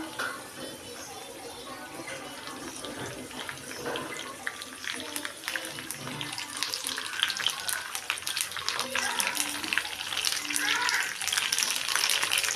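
Tomatoes frying in a pan for tomato gojju, a crackling, watery sizzle that begins fairly quiet and grows busier and louder, with spitting pops and stirring toward the end.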